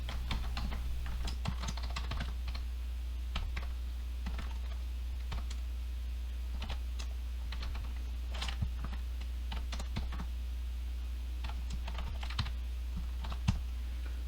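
Code is typed on a computer keyboard in quiet, close, irregular bursts of clicky keystrokes with short pauses, over a low steady hum, with no talking.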